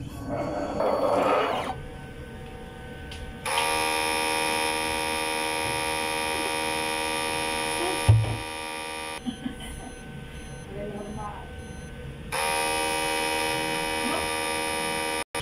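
A DTF printer running a head clean during its shutdown routine gives a steady, loud electrical whine and hum that cuts in and out in long stretches, with a person talking nearby.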